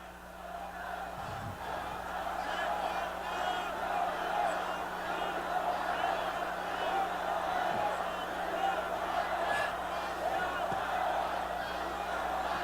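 A large crowd cheers and chants for President Yoon Suk-yeol at a rally, a dense continuous roar of voices held steady throughout.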